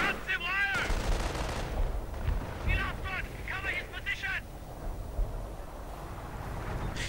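Rapid gunfire and explosive bursts from an artillery barrage in the strategy video game Company of Heroes crackle repeatedly under a commentator's voice throughout.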